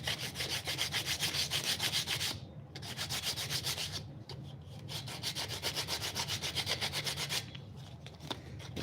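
Sandpaper rubs back and forth over a wooden flush cut saw handle in quick, even strokes, close and steady with a couple of brief pauses.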